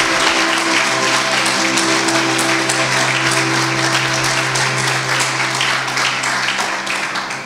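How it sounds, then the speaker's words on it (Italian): An audience applauds at a film festival in Ruvo del Monte, Basilicata: dense, sustained clapping from many hands that holds steady for several seconds and then begins to taper off at the end. "Ancora un applauso."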